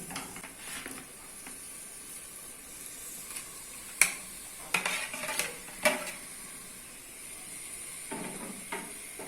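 A spoon scrapes and clanks against a pot while chicken is stirred into cooked tomato masala for chicken curry, with a soft sizzle beneath and several sharper metallic knocks spaced through the stirring.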